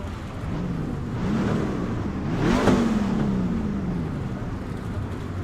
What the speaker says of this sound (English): God, that V8 sounds so good